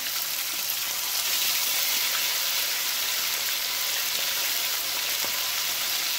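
Chicken wing pieces sizzle steadily in hot oil for Jamaican-style brown stew chicken, a bright, even crackle and hiss with faint spitting pops, close and alone without talk.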